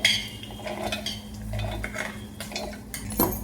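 A spoon scrapes and clinks against a metal kadhai while chutney ingredients are stirred together, giving close, repeated metallic knocks and scrapes in an uneven rhythm.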